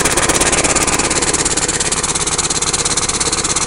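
A push lawn mower engine with a sticky throttle revs hard, giving a loud, close, continuous buzzing roar with a fast, even pulsing throughout.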